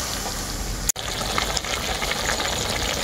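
Jute leaf greens simmer in a pan over garlic fried beforehand, giving a steady, close bubbling sizzle that runs throughout, broken only by one brief dropout near the start.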